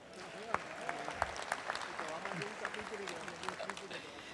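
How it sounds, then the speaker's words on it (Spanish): An audience applauding a speaker at a public gathering, a brisk patter of clapping with a voice talking over it throughout. "¡Aplaudan!"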